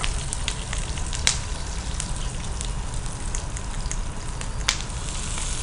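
Mustard seeds, cumin, onion and green chilli sizzle steadily in hot oil with scattered crackles and pops, a close, continuous frying hiss with no talk.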